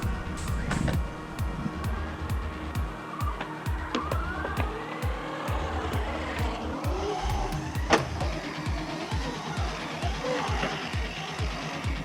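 A Traxxas Hoss RC truck driving with a broken wheel, its electric motor whining and revving continuously with rapid rhythmic knocking and clicking, fairly close and loud throughout.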